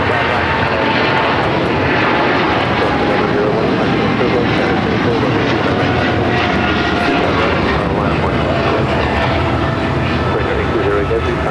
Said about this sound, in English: This is Korean Air Cargo 8208 taking off to Seoul on the 777 freighter.